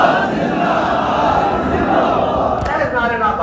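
A large crowd at a Friday sermon gathering shouts a loud, continuous religious slogan in unison, a roaring massed chant filling the space throughout.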